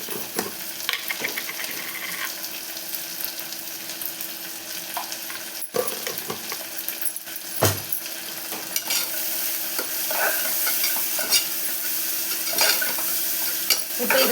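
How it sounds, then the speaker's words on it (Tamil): Onion with a pinch of salt sautéed in a pan, a steady close sizzle running throughout beneath occasional scrapes and knocks of a spatula stirring the pieces around. "இந்த ஆனியனோட கொஞ்சம் உப்பு சேர்த்து வதக்கிக்கலாங்க"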